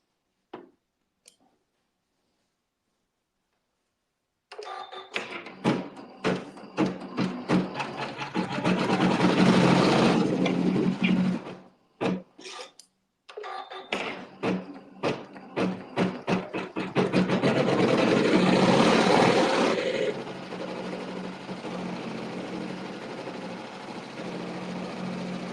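An embroidery machine stitches Wonderland lettering onto a quilt, running in a fast, steady mechanical patter broken by a brief stop midway, loud and close with no talking.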